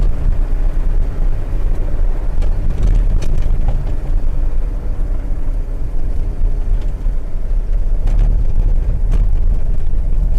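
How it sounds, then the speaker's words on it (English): An Austin Metro GTA engine roars loudly and steadily up close, with rattling and clattering throughout the cabin, a constant heavy rumble without pause. "You hear the roar of that engine and everything rattling."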